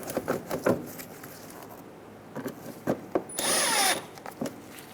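A power driver on a 2007–2012 Nissan Altima runs a Phillips head screw into the inner fender liner trim, giving one short whirring burst amid light clicks and handling noises.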